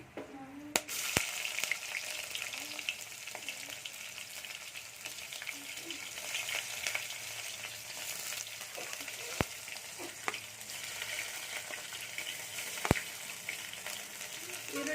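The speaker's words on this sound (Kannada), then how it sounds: "ಫಾಸ್ಟಾಗಿ ಒಲೆ ಇಟ್ಟು ಫ್ರೈ ಮಾಡ್ಕೋಬೇಕು ಎಣ್ಣೆಯಲ್ಲಿ." Onions frying in oil in a pan over high heat, a continuous close sizzle with occasional sharp utensil taps on the pan.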